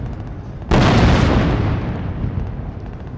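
A single heavy explosion booms during an Indian Army tank and infantry fire-and-move assault, loud and sudden, followed by a long rumbling decay.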